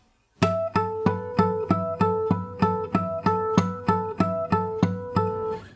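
The fingerstyle harmonic intro to a song on guitar: a steady stream of bell-like chiming notes, about a dozen plucks in even rhythm ringing into each other, close and clear with no talking.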